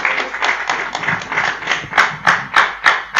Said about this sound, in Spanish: le pido un fuerte aplauso que va a arrancar esta charla